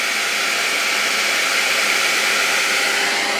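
A hair dryer styler blows steadily while smoothing hair, a loud continuous airy rush with no breaks and no voices.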